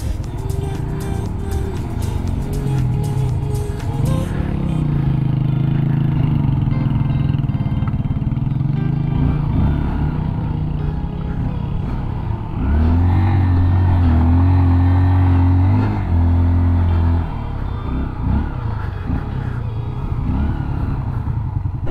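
Steady mid-pitched drone of a motorcycle engine while riding along a beach route in Palanan, Isabela, loud and continuous throughout, with the pitch shifting as the rider changes speed.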